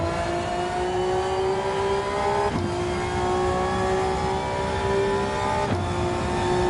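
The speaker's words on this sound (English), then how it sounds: "Has a bit of an F1 car sound to it." A high-revving Gran Turismo 7 GR3 race car engine screams steadily like an F1 car, with two brief dips as gears shift, loud and continuous throughout.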